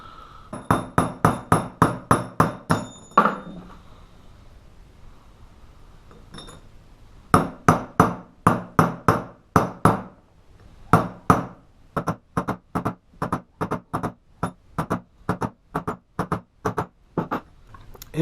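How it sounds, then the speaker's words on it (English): Bearing race being driven onto a spindle with a driver tool: long series of sharp metallic hammer blows in quick rhythmic runs, close and ringing, broken by a brief pause. "And we can drive the race in with this."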